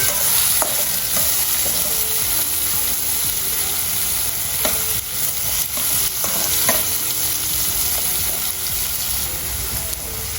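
Onion being sautéed in a pan for Nashik-style milk shev bhaji, a loud continuous sizzle with occasional spatula scrapes and stirring clicks, close up and with no speech.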